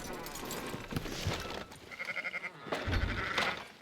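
Sheep bleat repeatedly in Red Dead Redemption 2 as a flock is driven into a pen, several wavering calls close by over rustling ranch ambience, with brief shouts from herders.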